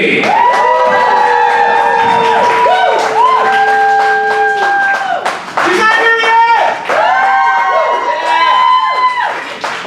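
Audience at a poetry slam in Dayton, Ohio bursts into sustained loud applause, cheering and whooping after a poet's score, the clapping and shouting continuous and close for about ten seconds.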